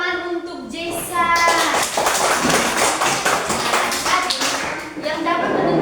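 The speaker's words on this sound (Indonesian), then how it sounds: "tepuk tangan untuk Jessa" Classroom applause for a student during a math lesson, a burst of many hands clapping in a quick, dense patter that carries on for several seconds, with a voice speaking at the start.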